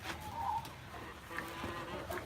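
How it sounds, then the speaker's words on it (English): Hens and adolescent chickens cluck and murmur in a farm coop amid steady background noise, with a few brief, faint calls standing out. "this side has my adolescent birds and some of my tamer hens."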